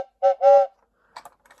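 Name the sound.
blowing into the air whistle of a toy Lionel train engine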